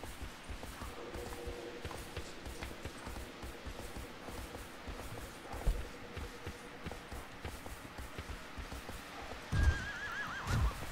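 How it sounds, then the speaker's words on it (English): A horse neighs and whinnies in the video game Shadow of the Colossus, with rhythmic hoof clip-clops on the ground nearby and a louder burst of hoofbeats near the end. "It's a horse."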